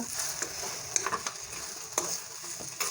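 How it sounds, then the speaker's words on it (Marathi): Whole spices for an egg curry dry-roasting in a pan on a gas stove, giving a soft steady crackle with light stirring scrapes and a few sharper clicks, close and fairly quiet, no talking. "मसाले किती छान भाजून झाले आहेत सर्व"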